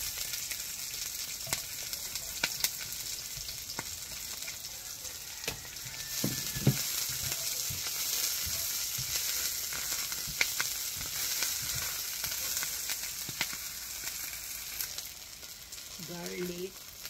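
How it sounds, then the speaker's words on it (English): Onions saute in hot oil in a pan with a steady, close sizzle throughout, broken by scattered scraping stirs and light clinks of a utensil. "Saute onions."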